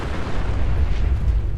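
Explosion in Fallout 4, a loud, deep rumbling blast that booms and rolls continuously, heavy in low end with crackling debris, filling the whole moment without speech.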